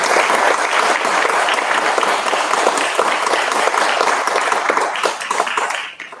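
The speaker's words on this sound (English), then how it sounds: "Just give him a round of applause." An audience at a Seattle City Council candidate forum in Ballard applauds loudly, with dense, steady clapping from a full room that holds for about five seconds before tapering off at the end.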